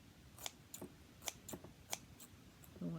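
Scissors snip through frayed fabric threads while a small zippered pencil pouch is being sewn, giving about five or six crisp, separate close-up clicks at an uneven pace. Nobody speaks.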